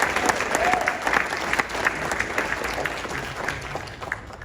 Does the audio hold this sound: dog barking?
no